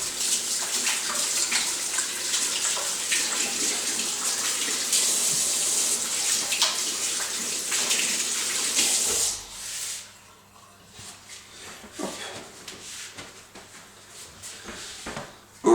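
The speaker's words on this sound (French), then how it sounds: "Ok, on se lave les mains." A tap runs loudly while hands are washed beneath it, a close splashing rush that stops abruptly partway through, followed by quieter drips, rubbing and handling noises.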